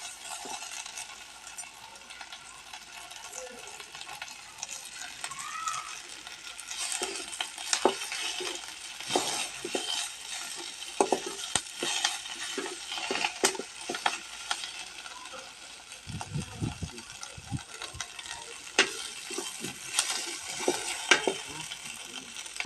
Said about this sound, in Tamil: தேங்காயும் போட்டோம் கூட வதக்கிக்கலாமா இல்லை அப்படியே நல்லா அரைச்சிக்கலாம் நல்லா வதங்கணும்